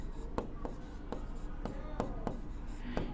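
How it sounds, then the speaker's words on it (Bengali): Chalk or marker strokes on a classroom board as a sentence is written, a series of short, distinct scratching taps in an irregular rhythm, close and fairly quiet, with no talking. "আমি আরেকটা বাক্য লিখছি"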